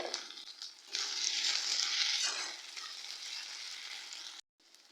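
Chopped tomatoes hit a hot pan of chicken frying with ginger-garlic paste for a chicken and potato curry, setting off a sudden loud hiss that holds steady, softens to a gentler sizzle, then abruptly cuts out.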